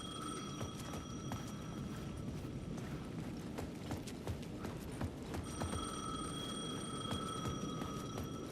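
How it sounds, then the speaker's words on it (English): A payphone at the edge of a plaza in Alan Wake 2 rings in repeated bursts, a bright electronic bell pattern over a dull rumbling background, pausing briefly midway before ringing again. "The payphone at the edge of the plaza was ringing again."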